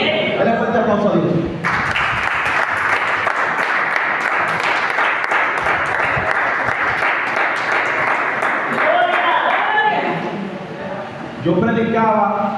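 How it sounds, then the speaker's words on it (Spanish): A church congregation breaks into loud, sustained applause lasting about eight seconds. A voice speaks before and after the clapping. "Dale fuerte aplauso a Dios."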